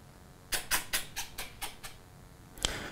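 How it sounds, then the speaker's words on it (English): A quick series of about seven short mechanical clicks from RC servos wiggling as a Spektrum AR637T receiver reboots, evenly spaced, then a single sharper click a moment later; quiet background, no voices. "you hear the servos wiggle once"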